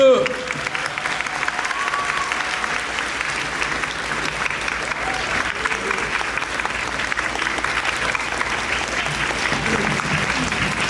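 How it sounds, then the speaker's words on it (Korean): A middle-school graduation ceremony audience claps steadily and evenly for the whole stretch, a dense sustained applause with a brief voice at the very start. "박수!"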